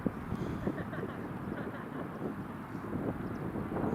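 A Ryanair airliner taxis out at Newcastle International Airport, a steady low engine rumble and wind-buffeted hiss carrying throughout, moderately loud and continuous with no clear voices.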